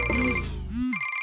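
A mobile phone rings in a classroom, a short bright electronic ringtone melody of sustained tones with a gliding pitch, loud and close.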